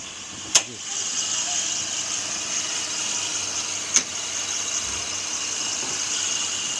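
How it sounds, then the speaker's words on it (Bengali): A 2014 Toyota Premio's engine idles with the hood open, giving a steady, even hum with no shake and two brief sharp clicks. "গাড়িটা স্টার্টে আছে ইঞ্জিনটা আমরা একটু সাউন্ডটা শুনি ইঞ্জিনের একেবারে স্মার্ট সাউন্ড"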